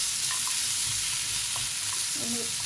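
Masala for capsicum chicken biryani sizzles and fries steadily in a pan while being stirred, with a continuous hiss and occasional soft scrapes of the spoon, close and without talk.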